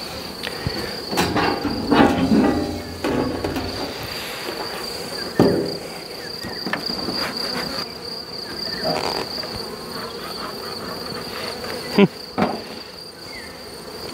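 Honeybees hum steadily around an open beehive, a dense close drone with a few sharp knocks and clatters from handling the wooden hive.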